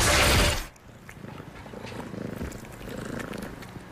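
A domestic cat purring close up, a soft rhythmic rumbling hum that starts after a brief loud burst of other noise and continues steadily and gently.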